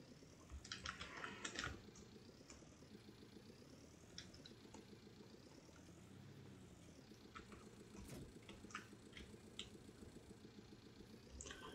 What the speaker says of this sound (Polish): jak słychać moją klawiaturę, bo jest głośna.